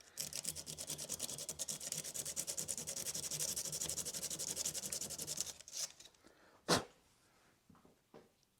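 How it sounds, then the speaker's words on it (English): Steady back-and-forth rubbing of a cylinder head part from a Camaro 6.0 engine on flat sandpaper on a bench, rhythmic rasping strokes for several seconds, then stopping with a few handling knocks and a brief clatter. "I just have a flat piece of sandpaper here."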